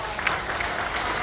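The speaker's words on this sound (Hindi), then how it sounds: "एक बार जोरदार तालियां" Loud, dense applause from a crowd welcoming the Chief Minister, a steady wash of many hands clapping throughout with no pause.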